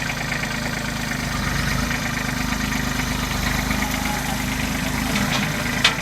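A tractor engine idles steadily nearby at a sawmill install, a continuous low throbbing drone with even mechanical pulsing and a brief click near the end.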